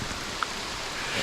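Steady rain falls across an open logging area in the woods, a soft, even hiss of drops with no pauses and no other sounds.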